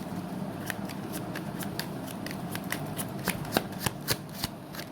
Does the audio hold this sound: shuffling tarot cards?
yes